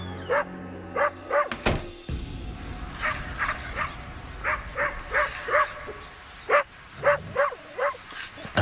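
A dog barks and yips in repeated bursts on a rural property, the barks coming in quick clusters with short gaps between them, fairly close and loud, with no talking over them.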